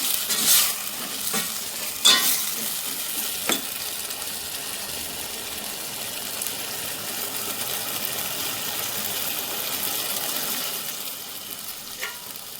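Vegetables fry in a pan for a leafy greens palya, a steady soft sizzle with a few sharp stirring scrapes and clinks near the start, and no voices.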